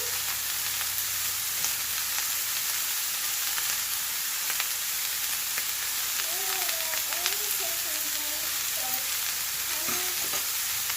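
Cabbage seasoned with cayenne pepper and salt, stir-frying in a pan for a Jamaican recipe: a steady, close sizzle holds throughout, broken by occasional scrapes of stirring and a faint voice in the background.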